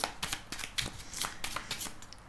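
Tarot cards being shuffled and handled during a daily reading, a run of quick close riffling and flicking bursts with soft card slaps, fairly loud and without speech.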